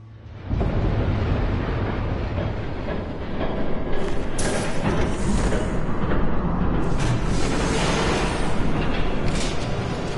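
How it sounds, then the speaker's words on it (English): A train rumbles past in a Batman video game, a loud, continuous roar with grinding and rattling that holds steady for several seconds, with no voices over it. "There's a train coming."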